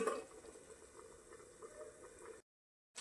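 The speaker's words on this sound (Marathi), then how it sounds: "भाजीला उकळी फुटलेली आहे" Soft bubbling of a bell pepper vegetable curry simmering in a pot, a steady gentle burble that cuts out briefly near the end, with no voices.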